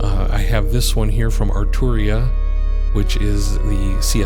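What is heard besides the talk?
No everyday noises stand out.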